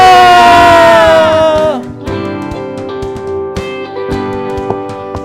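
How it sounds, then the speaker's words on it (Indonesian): A congregation at a Sunday worship service shouts hallelujah together, a loud collective cry that slides downward and fades within two seconds, then gives way to sustained music. "Sorakan haleluya."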